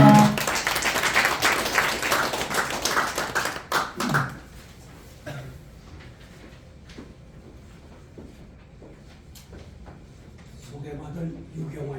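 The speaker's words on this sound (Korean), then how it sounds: "나오실 때 큰 박수로 환영해 주시기 바라겠습니다." An audience at a poet's book-launch thanksgiving service applauding to welcome a speaker: loud, dense clapping for about four seconds that dies away into a quieter room with faint voices.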